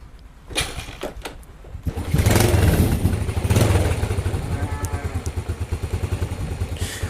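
A Yamaha Vega R motorcycle fitted with a Mio CDI and a weak battery is kicked over several times with sharp clattering strokes before the engine catches and settles into a loud, rapid, chugging idle.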